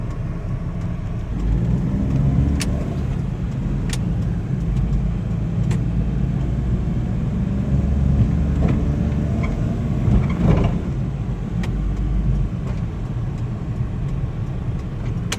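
A 2000 Suzuki Carry DB52T mini truck with a 660cc EFI engine, automatic transmission and 4WD drives along, its engine and road noise a steady, loud interior drone with occasional small knocks and rattles.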